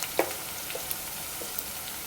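Onions and green chillies fry in a pan for a bottle gourd curry, a soft continuous sizzle with a few small pops and clicks, fairly quiet and close, no talk.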